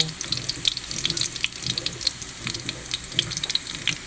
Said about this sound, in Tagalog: Kaya gisa-gisa lang po natin itong burong kanin.